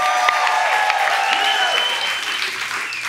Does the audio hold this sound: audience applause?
yes